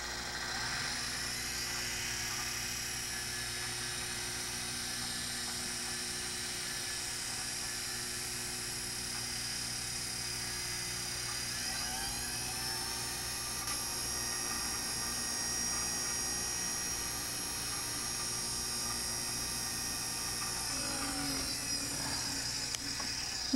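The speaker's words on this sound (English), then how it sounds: "Then speed up the lathe and press hard a bit with the pad." Wood lathe spinning at speed while finish is pressed onto a turned pen with a pad, giving a steady, faint mechanical whine and hum with a slight pitch shift late on and no talking.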